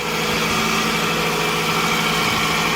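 A Toyota engine idles steadily and loudly close by, with a belt that has jumped off and an alternator not charging, giving a constant mechanical hum and vibration with no talking.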